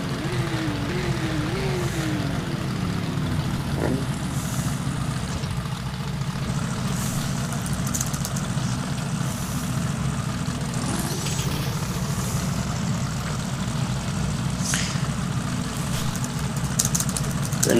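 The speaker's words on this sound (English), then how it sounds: "somebody's revving their engines" Car engines idle at a car meet in East Rutherford, a steady, loud, low rumble that holds evenly throughout with no voices over it.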